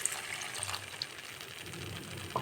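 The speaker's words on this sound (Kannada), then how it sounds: "ಇನ್ನೊಂದು ಸ್ವಲ್ಪ ನೀರು ಹಾಕ್ತೀನಿ ಈಗ" Water poured into a pan of cooking daba-style lasooni methi, a soft, steady trickle and splash lasting a couple of seconds, quiet and close with no talking.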